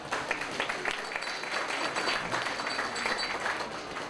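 Applause from an audience at a political party's national congress, a dense, steady wash of clapping from many hands that carries evenly for several seconds.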